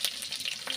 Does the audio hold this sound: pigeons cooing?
no